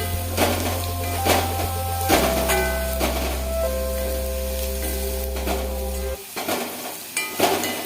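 Garlic roasting over a low flame in a kadai for poondu podi, heard as a close, steady run of stirring scrapes and light sizzling over a constant low electrical hum that cuts out near the end, with no voices.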